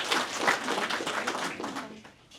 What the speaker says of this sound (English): So if you would please welcome her with a round of applause.